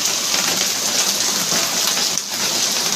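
Heavy rain pours down on Surat, India, in a dense, constant hiss, loud and close, with no pauses or voices.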